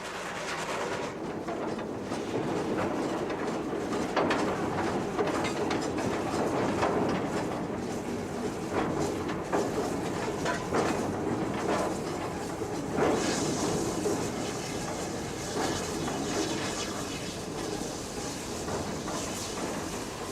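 GWR steam locomotive City of Truro runs on a British main line, heard as a steady, fairly loud rumble and rolling wheel noise that holds for about twenty seconds.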